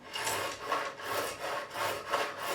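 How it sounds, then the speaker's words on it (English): A profiling file rasping back and forth over a guitar fret to remove burrs and restore its crown, five or six even rhythmic strokes close up, steady and moderately loud with no voices. "take my profiling file and just remove any extra burrs, and where it's now flat I'm going to re-crown"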